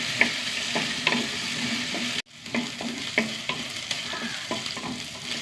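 Okra, about a quarter kilo, sautés in a pan: a continuous sizzle and frying hiss with repeated scraping stirs of a spatula, briefly cut off midway, then resuming steadily; no talking.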